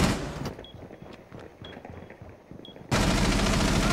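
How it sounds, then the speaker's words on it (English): Automatic gunfire from the shooter Rainbow Six Siege is fired through a floor hatch in the Chalet map. Muffled bursts from close by are followed by a sudden, much louder sustained volley at the end. "Shooting through the hatch"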